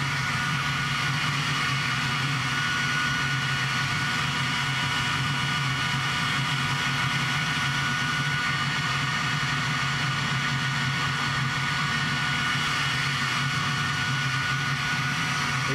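A gas-fired furnace melting a big chunk of aluminum gives a steady, continuous roar and rumble, with no talk and no change in level throughout.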